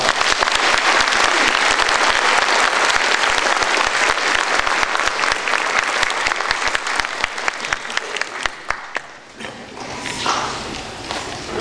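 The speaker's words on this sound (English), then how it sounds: "Let's give these new NTHS members a round of applause." An audience at a high school National Technical Honor Society induction ceremony claps loudly for the new members, a dense burst of applause that thins toward the end, with scattered footsteps as it fades.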